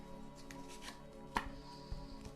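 A deck of cards being shuffled indoors, quiet soft riffling with a couple of sharper taps, fairly faint and close, with no talking.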